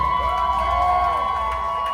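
A resort crowd at an evening show at the RIU Reggae Resort in Montego Bay cheers and whoops for a newlywed couple, a steady, loud wash of voices with tonal music underneath and no clear speech.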